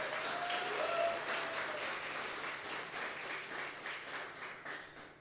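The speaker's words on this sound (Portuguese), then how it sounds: "Uma salva de palmas aí para o pastor Josias" Congregation at a countryside gaucho gospel gathering claps steadily for a pastor, a faint, distant wash of applause that slowly fades, with a brief voice tone near the start.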